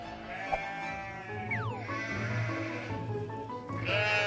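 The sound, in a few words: sheep bleating in the field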